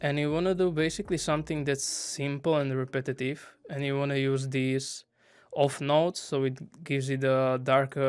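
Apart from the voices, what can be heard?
None of the usual background noises is heard.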